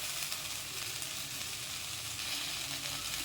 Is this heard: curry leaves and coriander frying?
yes